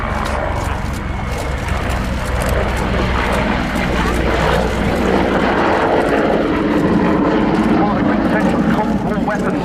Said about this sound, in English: This is the Czech Air Force with their second item of the day, and it's the Mi-35 Hind.